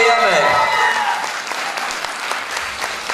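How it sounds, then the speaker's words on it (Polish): A crowd at a beauty pageant applauds the newly crowned winner, a dense, loud burst of clapping that fills the hall and tapers slightly, while a host speaks over the start. "prosimy o wielkie brawa"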